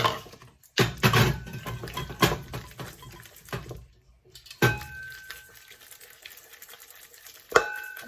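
Egg being worked into choux pastry dough by hand in a bowl, a series of wet slaps and squelching stirs in uneven bursts with brief pauses, close and alone.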